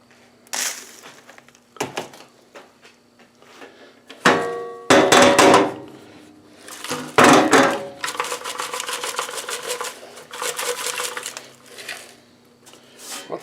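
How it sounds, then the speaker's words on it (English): Loose rust rattles and clatters inside the metal gas tank of an Earthquake chipper shredder as the tank is shaken. Bursts of gritty shaking alternate with sharp knocks, close and fairly loud, followed by a long, steady rattling run. "you still hear lots of rust in there"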